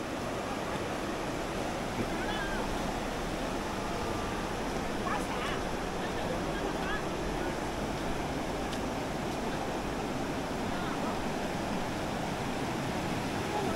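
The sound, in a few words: fast-flowing river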